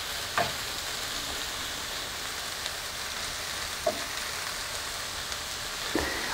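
Onions sauté in a pan for Ghormeh Sabzi with a steady close sizzle and a few soft clinks of stirring.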